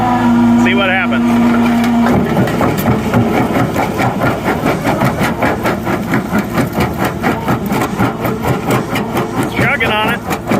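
A New Holland skid steer at three-quarter throttle drives a jaw crusher breaking concrete: a loud, steady engine roar that settles into rapid rhythmic chugging pulses as the crusher works, close and continuous.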